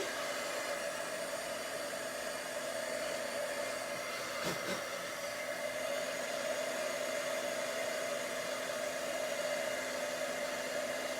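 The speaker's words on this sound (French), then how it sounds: "vous allez avoir besoin du fer à embosser pour ce faire" An embossing heat tool runs continuously to melt embossing powder, giving a steady, close blower whir with a constant tone and unchanging level throughout.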